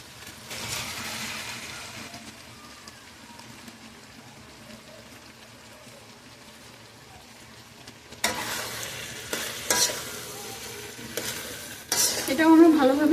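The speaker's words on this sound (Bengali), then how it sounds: "এখন আমি এখানে ভেজিটেবলগুলো দিয়ে দিব।" Mixed vegetables are tipped into a pan of fried whole spices, bringing a low sizzle, then louder clatter and scraping as a spatula stirs them near the end.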